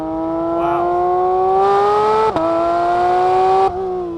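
A Porsche 911 GT3 of the 992.2 generation driven on a racetrack, its engine note rising steadily as it pulls hard through the gears. There is a sharp dip and shift around the middle and another near the end, loud and close, with no talk.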